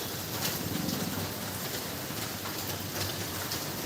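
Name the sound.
heavy rain falling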